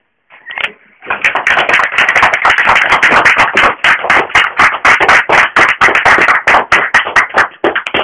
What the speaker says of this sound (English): Colin, I'm sure you can appreciate by that applause